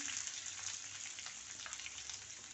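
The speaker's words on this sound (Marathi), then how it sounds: "लसूण आपण थोडा तेलामध्ये फ्राय करून घेऊया" Garlic and onion fry in hot oil in a pan, a steady close sizzle and crackle that holds evenly throughout, with no voices.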